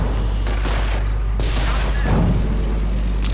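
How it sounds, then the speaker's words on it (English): Recoilless rifle rounds strike a Panzer IV tank in Company of Heroes, giving a dense, steady wash of battle noise with dull booms and scattered shots throughout. "That Panzer IV takes a hit from the recoilless rifles, but it doesn't do enough damage"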